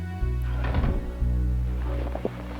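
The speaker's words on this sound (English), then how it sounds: "you'll get this little cutscene of the door closing" Door closing during a Resident Evil 3 cutscene: a heavy low thunk, then a second dull thud about a second later, over a sustained low ambient drone.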